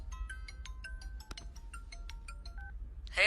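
An incoming call sets off a mobile phone's ringtone, a quick series of bright electronic tones in a repeating pattern, near and fairly faint over a low hum, followed by a short burst of noise at the end.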